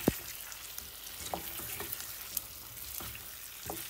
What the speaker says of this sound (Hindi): अब आलू को हम इसमें मिक्स करेंगे बटर में, और थोड़ी 2 मिनट तक इसको हम भूनेंगे और आँच को फुल कर देंगे